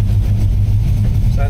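A warmed-up Chevrolet C10 pickup engine idles with a steady, low, even rumble, close and continuous, with a voice briefly starting at the very end.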